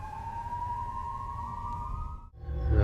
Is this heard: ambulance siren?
yes